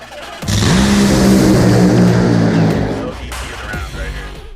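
A race car tears past on a historic race track, a loud engine note holding steady and climbing for a couple of seconds before fading as it moves away, leaving lower engine rumble and some background noise.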